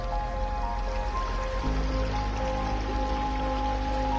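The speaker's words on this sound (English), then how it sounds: "mini waterfall by here." A mini waterfall pours steadily into a river outdoors, giving a continuous, close, broadband rush of water with no speech.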